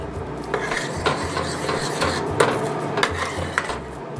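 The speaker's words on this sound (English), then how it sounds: "I've got the walnuts in, and I'm still mixing all this and letting it cook" A spoon scrapes and clinks in a pan as walnuts are stirred through melted butter for monkey bread, the metallic taps coming in a steady rhythm about twice a second over a low cooking hum, close and clear with no talking.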